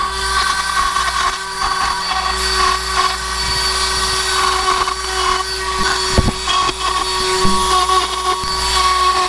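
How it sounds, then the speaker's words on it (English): A Dremel rotary tool grinds the plastic of a cracked steering wheel during repair, a loud steady high-pitched whine with slight pitch shifts as it bites, close and continuous. "Use a Dremel tool to widen the gaps a little bit."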